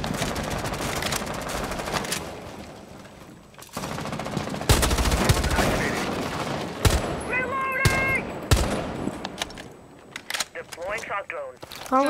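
Automatic rifle bursts and rapid gunfire crackle through a ranked Rainbow Six Siege match, with repeated volleys and scattered single shots close up, mixed with game effects and a player talking throughout.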